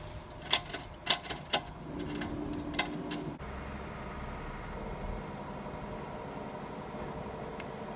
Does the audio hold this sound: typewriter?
yes